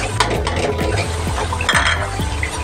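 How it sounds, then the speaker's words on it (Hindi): Garlic paste gets stirred into fried onions in a pan for a chicken green karahi, with a steady rhythmic scrape of a spoon against metal, light clinks and a soft sizzle underneath. "अब हम इसे अच्छे से मिक्स करेंगे।"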